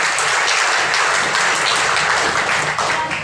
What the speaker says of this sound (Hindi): एक बार ताली बजाओ बेटे के लिए